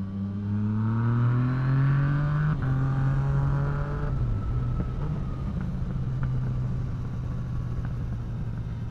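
A new motorcycle engine revs continuously while the rider drifts on a slippery, leaf-strewn road, its pitch rising and then dropping back, loud and close throughout.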